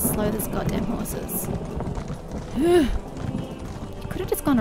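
Horse hooves galloping in The Elder Scrolls Online, a fast rhythmic clip-clop of in-game hoofbeats under ambient game sound, with a brief whinny-like call in the middle.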